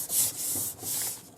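Paint being rubbed off a stencil during gelli printing, a soft dry scuffing in three drawn-out strokes, close and steady, with no voices.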